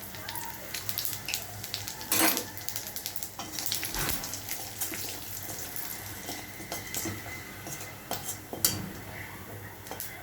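Steady crackling sizzle of whole spices (bay leaf, cinnamon, cumin seeds, cardamom, dried chillies) frying in hot oil, with occasional louder clinks and stirring scrapes, close by and without talk.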